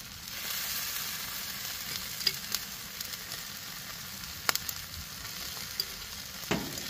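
Smashburger patties sizzle on a Blackstone griddle with a soft, steady frying hiss. A few faint pops and clicks come through on top of it.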